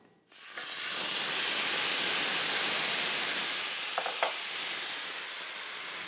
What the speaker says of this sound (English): all I need to do is add my pork to my skillet